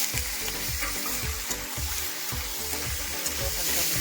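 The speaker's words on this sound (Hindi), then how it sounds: "देखिए अब डाल रही है नीतू चिकन डाल रही है। देखिए अब चला रही है इसको" Chicken stirred into fried onions in a pan on a stove, with a loud continuous sizzle and repeated scraping stirs in a steady rhythm, close up.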